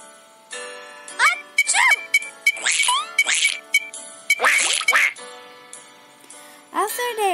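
Cartoon ducks quack on a pond in a children's story about Mother Duck and her ducklings, a run of loud nasal quacks in quick bursts with jingly chimes and music between them.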